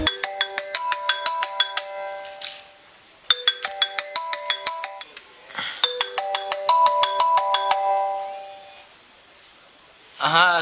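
A phone ringtone plays a repeating electronic melody of bright, rapid notes in several bursts with brief pauses, loud and close, with faint voices between.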